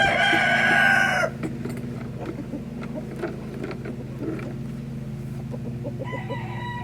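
A rooster crows loudly at the start on a farm, then falls silent over a steady low engine-like hum, with faint clucks and another short crow near the end.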